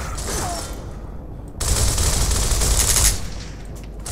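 Gunfire in Gears of War, a sustained burst of rapid automatic fire lasting about a second and a half, loud and close over a steady battle din.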